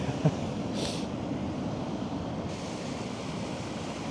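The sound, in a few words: incoming spring tide waves on the shore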